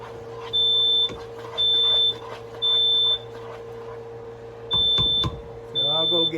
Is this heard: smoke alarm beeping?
yes